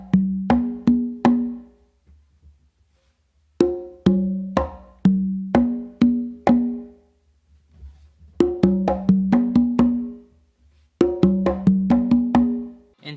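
A makuta rhythm played by hand on three congas: crisp, ringing drum slaps and open tones in quick bursts of three to five strokes, separated by short pauses, close and loud with no talking.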